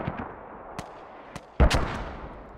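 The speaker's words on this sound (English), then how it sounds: "you can hear mortars coming in for Fear Academy" Distant mortar shells landing in the military shooter Squad, a few faint thuds early on followed by one louder, nearer boom with a brief rumbling tail, with no voices over it.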